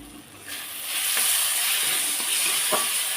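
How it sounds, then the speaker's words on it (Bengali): A low-oil cauliflower curry fries and is stirred in a pan, giving a continuous broad hiss with a few soft scraping stirs and spatula knocks. The sizzle swells after the first half second and stays steady, with no voices. "আর একটু ভালো করে তরকারিটা ভেজে নেব"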